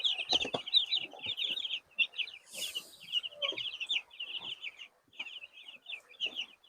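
Young broiler chicks clucking and peeping at close range, busy overlapping high calls with a few low clucks, no talking.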